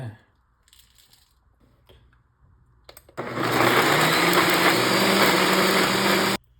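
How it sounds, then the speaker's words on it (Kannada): An electric mixer grinder grinds spices for capsicum rice bath in a home kitchen: after a few quiet seconds of light clatter, a loud, steady high-pitched motor whir starts abruptly and runs for about three seconds before cutting off. "ಈಗ ನಾನು ಗ್ರೈಂಡ್ ಮಾಡಿ ಕೊಡ್ತೆ."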